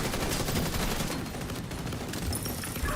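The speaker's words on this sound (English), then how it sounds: "The full automatic chem launcher." A full automatic chem launcher fires in a video game, a dense rapid burst of shots running continuously for a few seconds with no voices over it.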